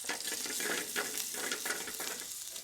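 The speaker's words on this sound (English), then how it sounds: "Add 1 whole dried red chilli and 1 pinch of cumin seeds to the oil." Dried red chilli, cumin seeds and chopped ginger fry in hot oil, giving a steady close sizzle broken by crackling bursts as the pan is stirred, with no voices.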